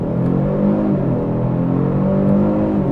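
2025 Genesis G70 3.3T accelerating hard in first gear, a steady, rising engine drone heard from inside the cabin, loud and continuous with no talk.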